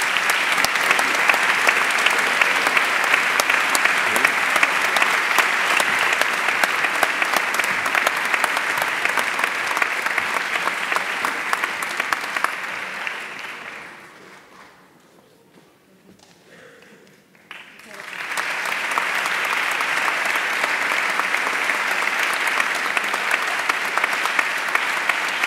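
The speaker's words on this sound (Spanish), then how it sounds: "Un fuerte aplauso." Sustained applause from a large audience at a charity awards gala in Cartagena, dense and loud, fading to near quiet midway before swelling back up just as strongly.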